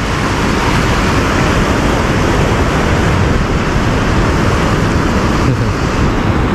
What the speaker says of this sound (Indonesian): Ombak Sungai Citanduy rada-rada ngeri teman-teman.